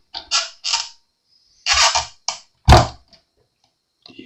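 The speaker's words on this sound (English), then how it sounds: "we're going to place our neck back in the pocket, all the way down." Bass guitar neck set down into the body pocket of a Precision-bass-style build, heard as a few separate wooden creaks and knocks in short bursts, with one firm thunk near the end and quiet pauses between.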